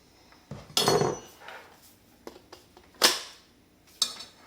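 A blending attachment snapped onto a blender, heard as a few sharp plastic clicks and clacks, one louder snap near the middle, close and alone with no talk.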